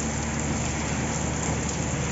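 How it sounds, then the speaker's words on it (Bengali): Heavy rain has poured without a break for about an hour outside a home in a flood-hit area. It makes a dense, even, roaring hiss that does not let up, with no voices. "টানা 1 ঘন্টা ভরায় বৃষ্টি পড়ছে।"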